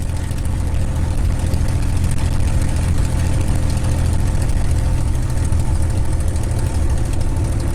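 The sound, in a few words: Merlin engine of TF-51 Mustang warming up on ground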